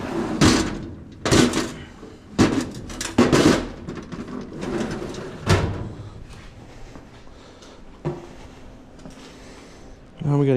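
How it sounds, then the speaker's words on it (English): In a garage during transmission separation work on a truck, a metal drawer is yanked open and shut among a series of sharp clanks and bangs, spaced irregularly, with someone talking in between. "Stick her in the drawer for now."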